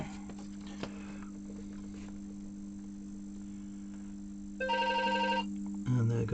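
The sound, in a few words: telephone ringing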